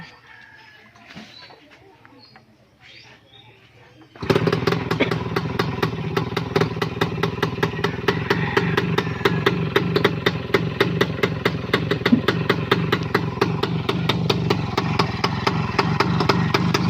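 A Kawasaki HD3 two-stroke motorcycle starts up after a few quiet seconds of background noise, then idles with a loud, rapid, steady popping putter running continuously to the end, no voices over it.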